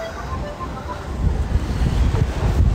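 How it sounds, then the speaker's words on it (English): Outdoor wind blows in strong gusts, a low rumbling buffet against the microphone that grows louder toward the end, with no clear speech. "Oh, it's windy, innit, boys?"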